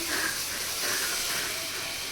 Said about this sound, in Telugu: మా మామ దోశ వేస్తుండు ఫ్రెండ్స్